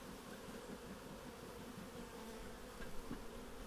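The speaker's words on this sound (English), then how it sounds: "Don't know, that's a lot of bees." Honeybees humming inside a beehive box, a steady, dense drone of many wings that stays faint and continuous throughout, with no voices.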